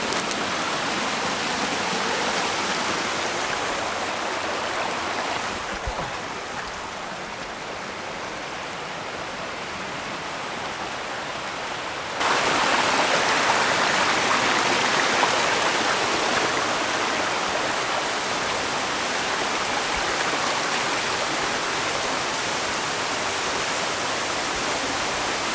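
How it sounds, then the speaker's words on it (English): Sombrio waterfall roars as a steady, dense rush of falling water heard close by, constant throughout with a brief dip in intensity midway, no voices. "made it here to the Sombrio waterfall."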